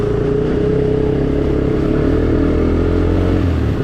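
A Honda Recon 250 ATV engine roars loudly and steadily as it shifts up through the gears while riding over wet, melting snow, a close, dense mechanical drone with no talk.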